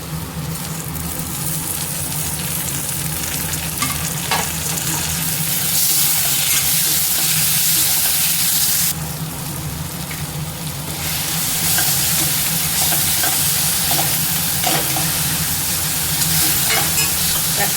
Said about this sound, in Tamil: இப்போ நம்ம தக்காளியை சேர்த்துக்கலாம்